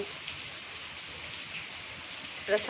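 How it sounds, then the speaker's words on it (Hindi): Heavy monsoon rain falls steadily in a hill region, a constant close hiss of downpour with a brief voice breaking through near the end. "बारिश आ रही है झमाझम वाली।"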